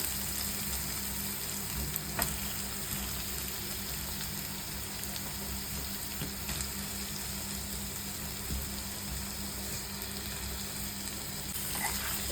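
Potatoes fry in a pan with capsicum, giving a steady, soft sizzle with faint stirring scrapes throughout, fairly quiet and alone with no talking.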